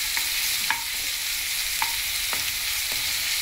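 Ginger garlic paste frying with onions in a pan, a loud continuous sizzle broken by several sharp scrapes of a spatula at irregular intervals, with no talking.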